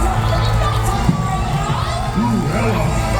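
A theme park audience at a Disney Villains stage show at Hollywood Studios, Walt Disney World, cheers, screams and shouts continuously, with many children's voices rising above a dense, steady roar from the crowd.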